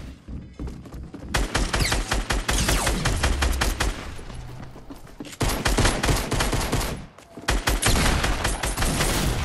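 Rapid bursts of gunfire in a building-and-shooting video game where two players carry shotguns, loud blasts coming in dense clusters with brief lulls and heavy thuds throughout.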